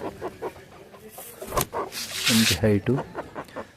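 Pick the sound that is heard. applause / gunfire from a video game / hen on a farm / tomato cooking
hen on a farm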